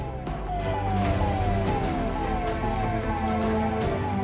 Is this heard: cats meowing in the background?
no